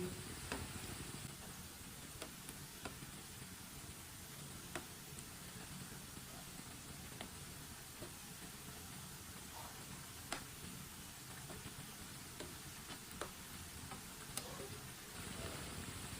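Potato and spinach pakoras deep-frying in hot oil over a lowered flame, giving a steady, close crackling sizzle with scattered sharp pops throughout and no talking.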